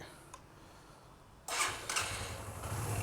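A Suzuki GR 150 motorcycle engine catches on its first morning start after a brief quiet moment and settles into a steady, close, moderately loud idle with a slight rev.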